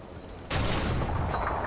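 A sudden loud blast erupts after a quiet moment in Modern Warfare 2, followed by a sustained roaring rumble like a game explosion.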